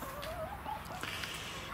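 A chicken on a garden plot gives a few faint, brief clucks over a steady background hiss, in one short burst.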